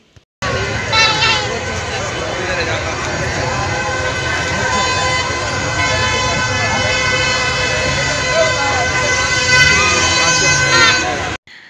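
Loud, continuous blare of motorbikes driving around a village temple festival, with sustained horn-like tones and engine roar filling about eleven seconds close by, starting abruptly and cutting off at the end, with no talk over it.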